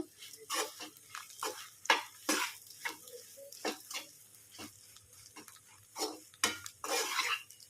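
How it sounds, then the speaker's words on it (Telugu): Garlic egg masala being stirred and mixed in a pan, with repeated scraping and clinking of a spoon against the metal in irregular bursts, close and fairly loud, with no talking. "గుడ్డు కారం అయితే అంతా కలిపేసుకోవాలి"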